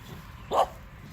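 A dachshund in a vegetable garden lets out one short, sharp bark against quiet outdoor background noise.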